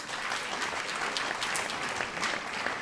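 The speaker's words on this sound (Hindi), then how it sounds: "ताली बजा सकते हो साहब ऐसी आवाज में।" Steady, dense audience applause at a Hindi poetry symposium, sustained and even throughout with no pauses.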